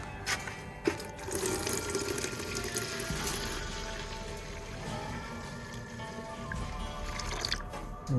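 Disinfectant solution poured into a container for a rabbit nipple drinking system, a continuous close splashing and trickling flow with slight gurgles throughout.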